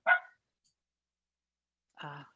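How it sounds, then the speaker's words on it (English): A dog barks twice, a short sharp bark followed after a long quiet pause by a second bark, fairly faint and somewhat distant. "My dogs."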